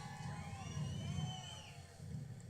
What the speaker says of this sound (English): Oh man, you can cheer.